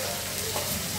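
Chopped onions fry in hot oil with cumin and asafoetida, a loud, close, continuous sizzle with no voices.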